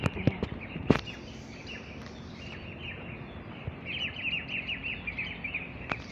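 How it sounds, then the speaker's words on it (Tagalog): Birds chirping outdoors in a Hong Kong public area, faint scattered high tweets and calls over quiet city background with occasional footsteps and knocks. "Ang tawag doon, mga ibon."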